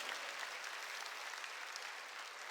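A congregation at a church service claps together, a steady, fairly faint wash of many hands from a distance with no voices on top.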